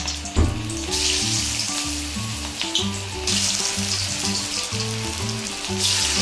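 Chicken pieces fry in hot oil for a crispy South Indian chicken fry, giving a steady, loud sizzle that runs the whole time beneath a prominent background music track.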